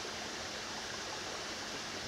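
Steady rush of stream water flowing beneath a footbridge on a countryside walk near natural springs, a continuous close broadband babble with no voices.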